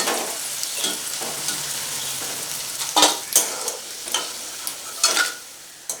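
Curry leaves with green and dried red chillies sizzle crisply in hot oil in a pan, a steady frying hiss punctuated by sharper crackles and scraping stirs every second or so.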